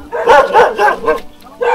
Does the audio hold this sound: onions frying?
no